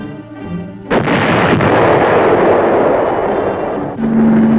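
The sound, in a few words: tanks firing guns in Vietnam war footage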